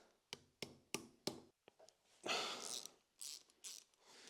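A hand ratchet clicks in short bursts while undoing bolts on an engine head to reach the valves, four sharp evenly spaced ratcheting strokes up close, followed by rougher scraping mechanical clatter.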